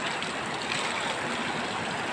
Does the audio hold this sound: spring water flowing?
yes